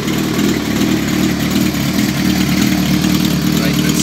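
A 2005 Kawasaki ZRX 1200R motorcycle fitted with TMR-MJN carburettors idles close by after its first start. The engine holds a loud, even, steady rumble throughout.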